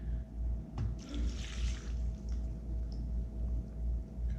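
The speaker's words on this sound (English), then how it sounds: "And then we're going to pour in the extra marinade." Teriyaki marinade is poured from a bag holder into a Ziploc bag of lamb lollipops, giving a soft liquid glug and trickle with a brief splash, close and quiet without speech.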